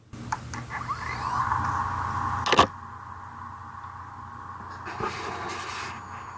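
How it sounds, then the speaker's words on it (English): A 2.5 inch IDE laptop hard drive spins up with a rising whine and a sharp click around midway, then settles into a quiet hum with faint clicks, no talking. "We are recording a hard drive spin up."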